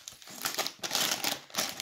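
A small plastic bag crinkles and rustles continuously during the unboxing of a Lego City police car set, close and fairly loud in irregular bursts.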